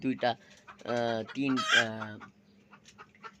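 Chickens in a poultry shed with a raised perch platform, clucking and squawking in short bursts, near and fairly loud, with a quieter low murmur of birds between calls.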